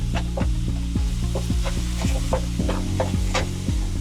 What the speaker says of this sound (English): Now you don't got to cook your ground beef all the way through. You just want to brown it a bit.